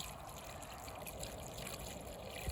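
Water trickling and pouring onto a chilli plant during garden watering, a faint steady wash of liquid running for a couple of seconds with a soft knock near the end.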